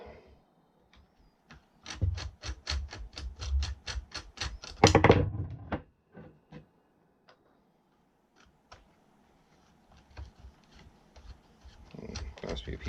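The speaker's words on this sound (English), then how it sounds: "we're going to start by just removing these 4 bolts" Ratchet wrench clicking rapidly in a steady burst while removing four bolts from a Yellow Jacket vacuum pump, followed by scattered faint ticks and handling sounds in a quiet shop setting.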